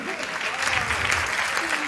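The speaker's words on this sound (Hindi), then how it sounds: "जब तक सब लोग मिलके ताली नहीं बजाने" An audience at a Hindi comedy show claps together in a short burst of applause, fairly close, with a voice mixed in over the clapping.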